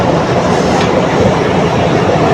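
A loud Bangladesh Railway local train rumbles steadily nearby, a dense roar of wheels on rails with no pauses.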